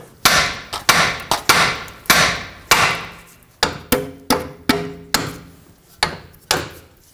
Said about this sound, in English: tap the side of the knuckle here